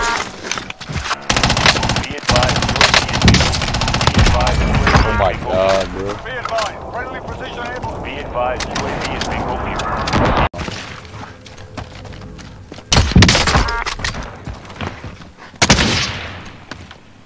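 Gunfire in Call of Duty Cold War Warzone, with loud, dense bursts of automatic fire and impacts mixed with game sounds and people talking, easing off mid-clip and then returning in sharp bursts.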